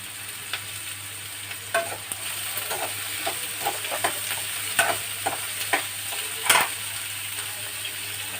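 Drumstick pods (moringa) and eggs cooking in a pan with a little salt on a terrace, giving a steady low sizzle with scattered clicks and stirring scrapes, close and moderately quiet, with no talking.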